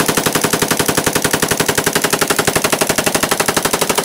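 Continuous automatic gunfire, a loud, evenly spaced rapid stream of shots hammering without pause for the full four seconds.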